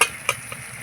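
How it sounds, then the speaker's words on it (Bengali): Pointed gourd, potatoes and chopped onion fry together in a pan: a soft steady sizzle broken by a few quick stirring taps, heard up close for under a second with no talking. "পটল আলু ভাজতে ভাজতে কুচনো পেঁয়াজটাও দিয়ে দিচ্ছি, একসাথে ভেজে নেব।"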